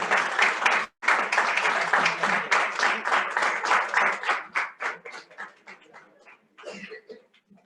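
Audience at a Republic Day celebration applauding, a dense burst of clapping that thins out and fades toward the end, with a brief gap near the start and scattered claps at the close.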